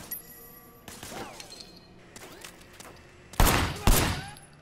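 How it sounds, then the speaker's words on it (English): Gunfire in the video game Sleeping Dogs: scattered shots crack at intervals amid background game sounds, building to two loud close bursts near the end. "Shooting at the guys over there."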